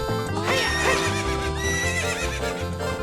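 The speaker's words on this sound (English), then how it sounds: "this is pretty simple how to ride a horse" A horse in the video game Zelda Ocarina of Time whinnies loudly while its hooves clop in a fast galloping rhythm, set over game background music.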